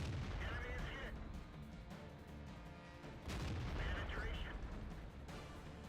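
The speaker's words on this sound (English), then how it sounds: "I shot once at that T71, and now I'm going to start shooting at this T32" A World of Tanks autoloading tank gun fires HE shells in heavy, booming blasts, with a second report arriving midway through the clip over a dense, rumbling battle background.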